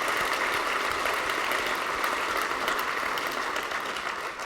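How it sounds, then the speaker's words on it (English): An audience at a Trout Unlimited event applauds, a dense, steady wash of clapping from a crowd that holds level throughout and fades slightly at the end. "Let's give a big round of applause for all those folks."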